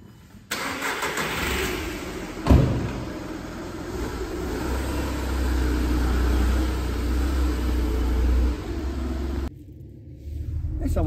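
A Volkswagen Polo 1.2 TDI diesel cranks and fires up, then settles into a steady low idle rumble inside the car, with a sharp thump as it catches and the engine note dropping near the end.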